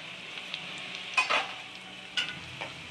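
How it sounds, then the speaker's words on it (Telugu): Dried red chillies, garlic, urad dal, mustard seeds and cumin seeds frying in hot oil, a steady sizzle broken by a few spatula stirs and scrapes against the pan. "బాగా ఫ్రై చేసుకోవాలి."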